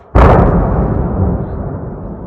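A single powerful explosion from a Shahed drone strike in Kharkiv bursts suddenly and loudly, then rolls into a long, heavy rumble that slowly fades without dying out.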